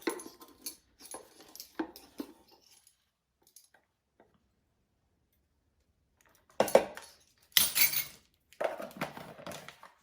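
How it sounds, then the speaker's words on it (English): Metal measuring spoons jangle and clink in short bursts, with a quiet pause between rattles and a louder clatter toward the end. "you're going to grab your handy dandy measuring spoons"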